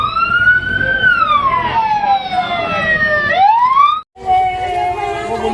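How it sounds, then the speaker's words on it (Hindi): A loud, close ambulance siren wails, sweeping down then rising again, cuts out briefly, and resumes on a steady high tone. "ये एम्बुलेंस है ना"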